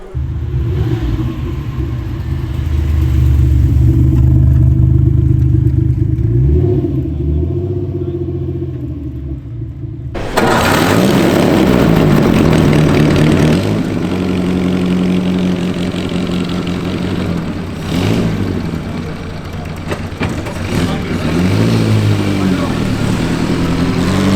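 A Porsche 912's engine at a cars and coffee meet, a low steady rumble running throughout that turns abruptly louder and rougher partway through, with voices around it.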